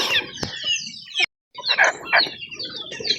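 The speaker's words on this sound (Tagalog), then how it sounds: "magpakain na po tayo ng manok" Several chickens cluck and chirp in short bursts, fairly close, with a brief silent gap partway through.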